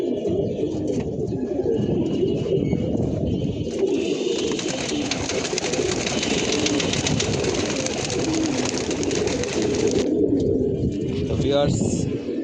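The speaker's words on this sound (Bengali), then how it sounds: "বড় মসজিদের উপর দিয়ে উঠতেছে কবুতরগুলা" A flock of pigeons is released and climbs from a rooftop loft over a large mosque, with constant cooing and a long rushing flutter of wings before the sound eases off.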